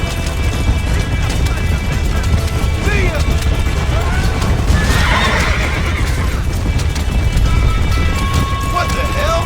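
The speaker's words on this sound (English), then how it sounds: "Damn horse!" A horse in the Western video game Red Dead Redemption neighs amid galloping hoofbeats and a loud, dense rumble of game noise and crashes, with a voice talking over it.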